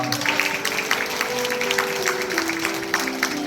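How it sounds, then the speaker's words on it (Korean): A church congregation claps together in applause at an anniversary yut-nori game event, steady dense clapping from a crowd in an indoor hall, with a sustained tone ringing beneath. "우리 주 하나님께 감사와 영광에 박수 올려드리겠습니다."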